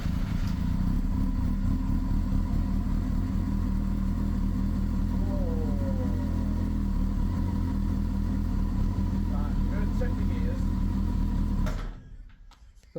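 A Honda Hornet 600 motorcycle, a stolen bike under repair and now running for the first time, idles close by with a steady low rumble and some voices mixed in, then cuts out abruptly near the end.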